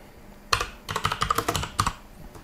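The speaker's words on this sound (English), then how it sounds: "type the task scheduler into the Windows search bar and the program will come up" Keys tapped on a computer keyboard while entering a search into the Windows search bar, a quick close burst of clicks in two short clusters with brief pauses, no voices.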